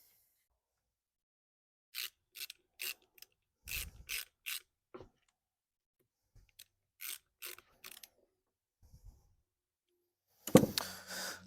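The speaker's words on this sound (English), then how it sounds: "Torque them down." A ratchet wrench torquing the rear tensioner bolts on a 2008 Harley-Davidson Street Glide, heard as short, close clicking runs separated by silences, with a heavier clunk near the end.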